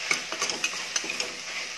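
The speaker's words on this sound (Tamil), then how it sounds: "தக்காளி சேர்த்ததுக்கப்புறமும் கொஞ்சோண்டு உப்பு போட்டு நல்லா வதக்கி மசிச்சு விட்டுக்கலாம்." Tomatoes with a little salt for tomato biryani are sautéed and mashed in a pan, giving faint soft sizzling broken by a few light spatula scrapes and taps.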